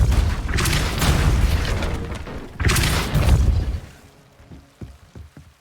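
The Depulso spell is cast in the video game Hogwarts Legacy, releasing two loud, booming magical blasts with a rushing roar, the second following a short dip, before fading into quieter clattering debris.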